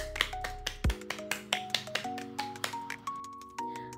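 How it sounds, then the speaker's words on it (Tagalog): Rhythmic clapping, a run of sharp, evenly spaced claps close up, accompanied by a rising series of bright electronic chime tones. "Bigyan po natin ang ating sarili ng isang magarbong palakpak."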